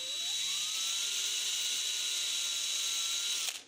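A cordless drill bores a hole in metal while making medieval sewing needles, a steady high whine running at constant speed close by before winding down abruptly at the end.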